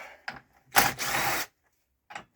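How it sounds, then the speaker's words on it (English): Socket wrench working the front cover bolts on a 31ci single-cylinder Briggs racing engine: a few short ratcheting bursts, with one longer loud stretch in the middle and a brief click near the end, close and with no talk. "We'll grab some sockets and we'll just get rid of these bits of the front cover."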